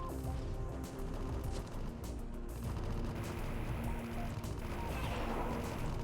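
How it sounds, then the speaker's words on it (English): Dense, continuous bursts of gunfire and explosive crashes fill the scene, layered over a busy soundtrack of the game AM2R with no clear pauses. "Gunfire. That's a good sound."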